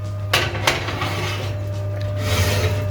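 A leg of lamb in a roasting pan goes into an oven preheated to 240 degrees, with two sharp metallic clanks of pan against rack followed by a rubbing slide and a steady low oven hum.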